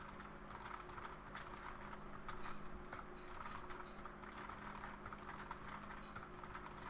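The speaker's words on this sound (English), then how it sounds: "just click on that area and keep typing" Soft, steady typing on a computer keyboard, faint keystrokes running continuously under a low background hum with no talking.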